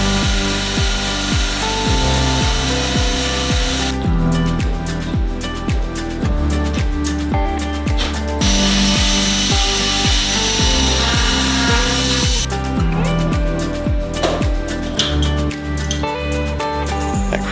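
A power drill with a 3/32 bit bores through the firewall of a Sonex kit aircraft during forward fuselage construction, its motor whining steadily and loudly across the whole stretch with pitch shifts as it bites and eases off.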